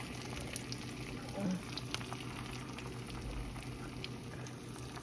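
Potato patty frying in hot oil, a soft steady sizzle with faint crackles running throughout at low volume, with no talk over it.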